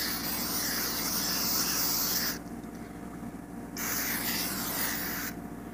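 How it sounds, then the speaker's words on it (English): Close, hissing bursts from an aerosol cooking spray can, three in a row with short pauses between them. "We gotta use cooking spray so it won't get like a mess."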